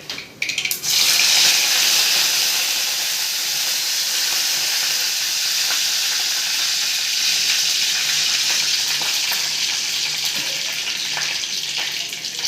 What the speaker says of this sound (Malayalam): കടുക് പൊട്ടിയിട്ടുണ്ട്. നമുക്ക് കറിവേപ്പിലിടാം.